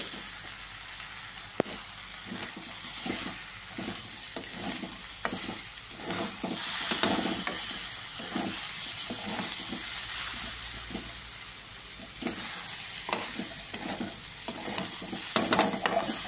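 Khichuri rice sautéing in ghee with salt and a little sugar, stirred steadily in a pan: a continuous sizzle with repeated scraping strokes, close and fairly loud, with no talking.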